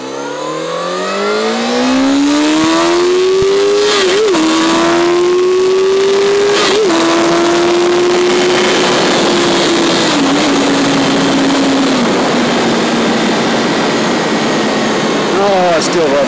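A 2006 Honda CBR600 F4i sport bike engine revs loudly and steadily, its pitch climbing through several blips and holding high before easing off, with a voice briefly audible beneath it.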